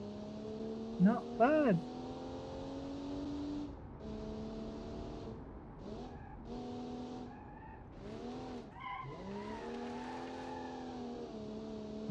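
A car in a driving video game swings through a handbrake turn, its tyres squealing in a few sharp rising skids over a constant engine drone. Someone talks briefly nearby.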